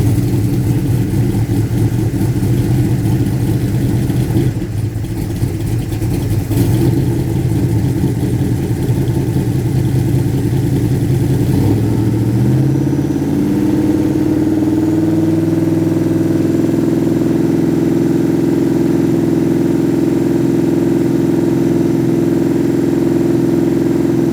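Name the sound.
tuned carbureted engine starting up and idling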